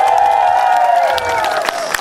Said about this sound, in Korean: 야수다리 큰 박수 또 한번 보내주시기 바랍니다